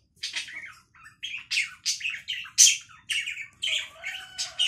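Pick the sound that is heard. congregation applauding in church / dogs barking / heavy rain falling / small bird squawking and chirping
small bird squawking and chirping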